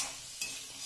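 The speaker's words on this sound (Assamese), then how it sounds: "এয়া দেখিছেনে মাংস আৰু আলুখিনি মই মছলাখিনিৰ লগত ভাজি আছোঁ।" Meat and potato pieces frying with spices in a pan, a soft, close sizzle with a quick scrape of stirring partway through.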